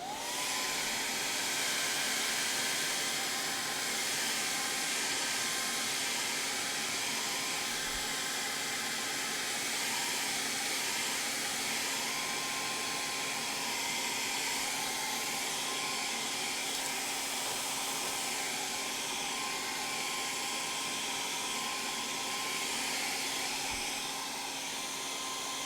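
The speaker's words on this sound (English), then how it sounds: "we're going to hit it with the hair dryer again" A hair dryer blows steadily and loudly onto a freshly sprayed metal surface, a constant close roar and hiss that continues unbroken for the whole stretch.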